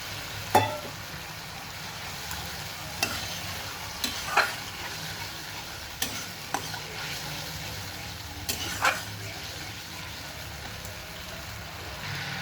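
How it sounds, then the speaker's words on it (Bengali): Spice paste for a pomfret curry is stir-fried in a pan with a little water, giving a soft continuous sizzle broken by several sharp scrapes and knocks of a spoon. "এবার নেড়ে নেড়ে কষিয়ে নিতে হবে"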